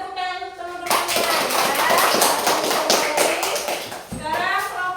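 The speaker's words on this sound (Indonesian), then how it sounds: "Beri tepuk tangan untuk teman-teman ya." Schoolchildren in a classroom clap their hands together in a dense, lively burst of applause lasting several seconds, set between stretches of someone speaking to the class.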